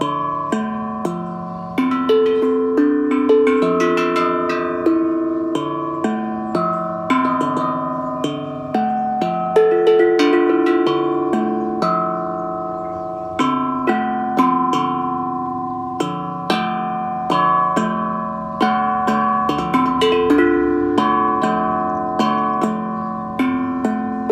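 A double-sided stainless steel tongue drum rings out in a steady stream of bright, bell-like tones, notes overlapping and sustaining in a melodic pattern, played alone.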